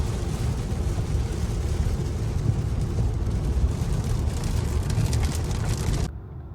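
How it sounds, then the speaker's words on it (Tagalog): Heavy rain drums steadily on a moving car while driving to Miami International Airport, a dense continuous roar with road noise mixed in. It cuts off abruptly near the end, leaving quieter background. "Sobrang lakas na talaga ng ulan guys, oh."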